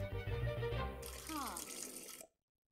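Water from a shower or tap in The Sims 4 runs as a steady hiss with a brief voice-like sound partway through, then cuts off abruptly into silence.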